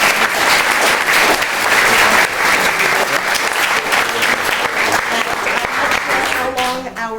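An audience applauds at the close of a New York City Bar Association panel forum on animal sacrifice and Kaporos, loud dense clapping that fades slightly toward the end as voices and room sounds emerge.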